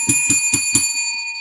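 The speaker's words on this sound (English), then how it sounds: "Let's ring the bell for that." Four quick, evenly spaced bell rings are played as a sound effect, bright and clear with a lingering metallic ring that fades out after the last strike.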